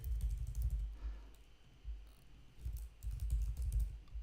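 Fast typing on a computer keyboard, close-up bursts of rapid key clicks and clatter in uneven clusters with brief pauses between, no talking.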